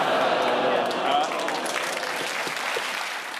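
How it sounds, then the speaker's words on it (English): Television studio audience clapping at a panel comedy show, a sustained wash of applause that gradually thins out, with voices speaking over it. "You send a mixed message when you groan and then clap."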